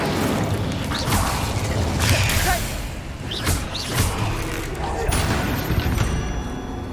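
Spell casting and blasts in the video game Hogwarts Legacy, with whooshing magic bursts, thuds and booming explosions layered over continuous game noise, with a voice speaking over the action.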